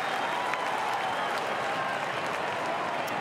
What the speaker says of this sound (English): Cordy gets a round of applause